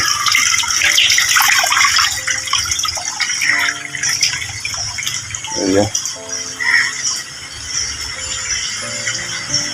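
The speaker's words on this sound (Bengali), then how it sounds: "ওদিক দিয়ে জল দিচ্ছে আর এদিক দিয়ে জল বার হচ্ছে" Water pours into and drains out of a tank holding young shing catfish, making a loud continuous gush with splashing and bubbling, and faint voices murmur underneath at times.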